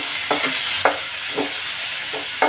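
Onions frying in hot oil in a pan, being prepared for cooking small fish, a steady sizzle broken by a few distinct scraping stirs, close and fairly loud.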